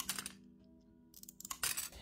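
Fused glass being cut into small pieces makes faint, close clicking snaps and light glassy clinks, two short clusters separated by a quiet pause.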